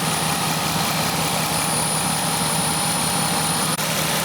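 Car engine running loud and steady during a clogged exhaust check, a constant heavy drone with a high whine on top and no clear rise in pitch.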